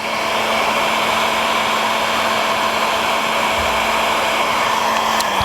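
A heat gun blows a loud, steady whooshing roar of hot air, shrinking heat-shrink tubing over wire connections on taillights for a 1949 Chevrolet gasser.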